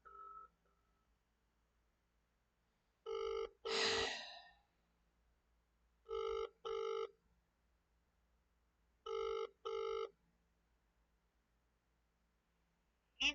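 A UK telephone ring tone sounds while a call to an MP's office in Eastbourne connects: three double-burst rings spaced a few seconds apart over near silence, with a brief sigh after the first ring.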